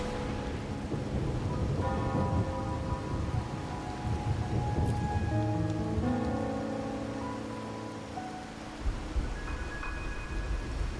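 Steady rain falls in Ragunna in the video game Wuthering Waves, a dense even hiss that runs throughout beneath sustained musical tones, fading slightly near the end.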